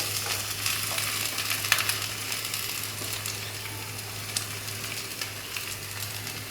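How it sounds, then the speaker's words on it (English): Steady sizzling and frying from egg, carrots and mustard greens being stir-fried in a wok for Malaysian Maggi goreng, continuous and close with a low hum underneath. "Just gonna fry this for a little while"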